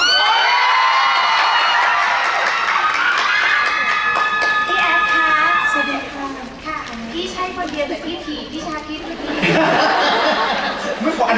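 Audience at a Thai television drama launch event cheering and screaming, a loud dense crowd roar with shrill shouts that dips briefly and then surges again, with voices speaking over it.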